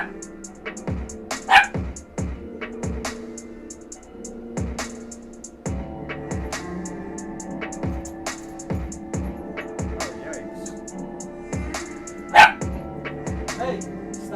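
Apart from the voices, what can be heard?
dog barking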